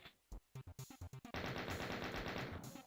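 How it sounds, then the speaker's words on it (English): Chain gun fire in the Doom video game: a string of sharp evenly spaced shots, then a dense rattling burst of continuous rapid fire, fairly faint overall. "the first shot of your chain gun is always dead on"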